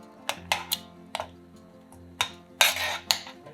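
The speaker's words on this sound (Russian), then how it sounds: "Когда ягоды станут мягкими, раздавливаем их ложкой." Metal spoon pressing and crushing softened cranberries in a saucepan, producing a series of sharp, irregular clinks and scrapes against the pan, close and fairly loud, with no speech.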